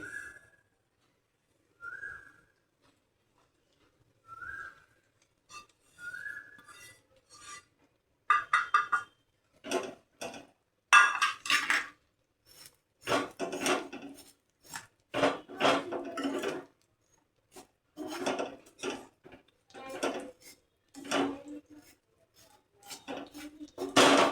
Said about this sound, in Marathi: परत गॅस चालू करते आणि त्याच तुपामध्ये हे शेवया भाजून येते